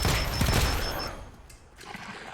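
A precision-strike gunshot in Wasteland 3 fires as a dense, loud burst over about a second, then drops to a low, dull tail with faint clatter.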